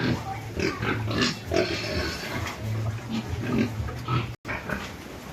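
Farm pigs grunt repeatedly in short, low, rhythmic bursts close by, several animals overlapping in a pen, with a brief dropout near the end and no speech.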